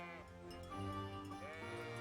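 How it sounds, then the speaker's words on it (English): Sheep bleating in the medieval game Kingdom Come: Deliverance, a herd giving repeated overlapping bleats, close and fairly loud over steady game ambience. "I love how the sheep run away from you in a herd."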